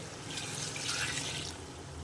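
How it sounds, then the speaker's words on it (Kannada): Two glasses of mutton broth pour into a cooking pot for wedding-style mutton biryani, a steady, close liquid pour lasting about two seconds with no voices. "ಇದು ಮಟನ್ದು ಸೂಪ್ ಬಂದಿದೆ ಇದು ಒಂದು ಎರಡು ಲೋಟ ಇದೆ ಕರೆಕ್ಟಾಗಿ ಸೊ ಇದನ್ನು ಹಾಕೋತೀನಿ ಎರಡು ಲೋಟ ಇದು"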